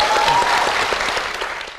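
An audience bursts into dense, sustained applause close by, holding steady and then fading slightly toward the end.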